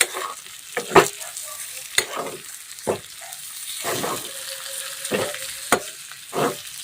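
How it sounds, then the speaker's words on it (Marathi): Masala frying in oil for a bitter gourd curry is stirred in a pan: loud, close spatula scrapes recur every second or so over a continuous sizzle. "दोन ते तीन मिनटं छान असं मिक्स करून घ्यायचं आहे"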